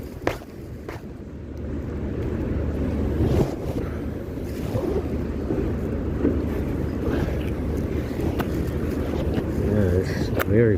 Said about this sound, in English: Yeah, it's very fucking windy.